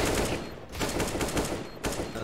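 Gunfire from a Counter-Strike: Global Offensive match: close, loud bursts of rapid shots with brief pauses between them, and no voices heard.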